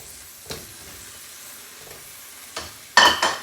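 Orange wedges dropped into a hot pan, a quiet sizzle broken by a few short bursts of frying and hissing, the loudest near the end, with no voices.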